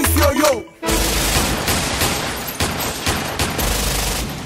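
Rapid bursts of rifle gunfire used as a sound effect inside a reggaeton song, a dense, loud volley of shots cracking over the music right after a brief sweep, continuing for several seconds.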